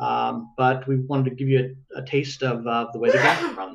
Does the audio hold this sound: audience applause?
no